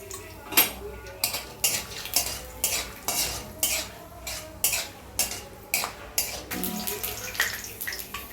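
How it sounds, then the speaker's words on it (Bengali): Peanuts are fried in oil and stirred in a rhythmic run of about a dozen scraping, rattling strokes against the pan, close and evenly spaced over a low sizzle. "দেখুন বাদামটা ভেজে নিচ্ছি।"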